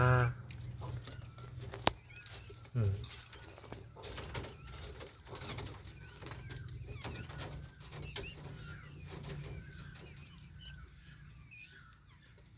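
Young pheasant and peafowl chicks in a nursery pen at dusk give soft scattered peeps and clucks, close by and irregular, with a few light knocks amid quiet background.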